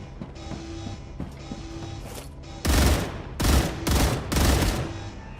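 Automated turrets fire in loud bursts in the video game StarRupture, several heavy volleys in quick succession following a quieter stretch of mechanical hum, with no talking.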